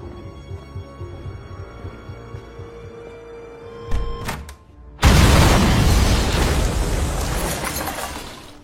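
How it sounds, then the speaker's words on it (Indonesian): A bomb detonates in a film scene, where a tense, low ambient bed with a few sharp clicks gives way to a sudden, loud, deep blast whose roaring debris and rumble gradually fade. "seketika bom pun meledak"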